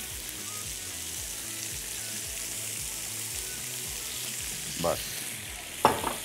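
Grilled chicken breast fries in oil on a grill pan, giving a steady, dense sizzle throughout, with a couple of short clatters near the end and a brief word spoken over it.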